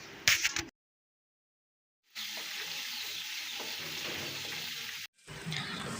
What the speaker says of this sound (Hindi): इस ऑयल में अदरक लहसुन के पेस्ट को हम सौते करेंगे